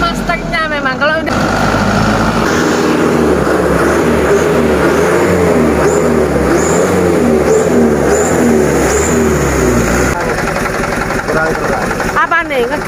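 A car engine revs and runs steadily through most of the stretch, loud and close, while people talk over it and voices break in at the start and end.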